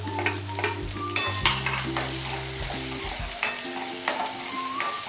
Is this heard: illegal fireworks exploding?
no